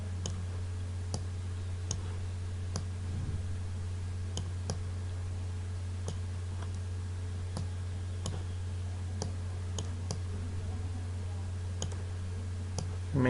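Computer mouse clicking during an Adobe Photoshop lesson, sharp isolated clicks spaced a second or two apart over a steady electrical hum, close to the microphone with no talk.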